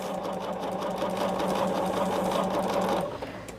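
A sewing machine stitches a quilt binding steadily with a fast, even mechanical hum, close and fairly loud, then slows and stops near the end.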